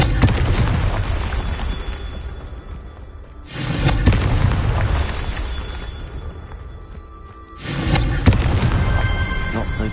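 Booming explosive blasts from the Confringo spell in the Hogwarts Legacy video game, two big loud bursts with rumbling tails over a dense game soundscape, no one talking.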